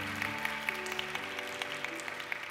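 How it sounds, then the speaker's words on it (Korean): A church congregation at a Korean Saturday young-adults worship service applauds to bless a couple's wedding announcement, a steady patter of clapping running throughout, mixed with held tones from an instrument or sustained music. "우리 큰 박수로 한번 축복하겠습니다."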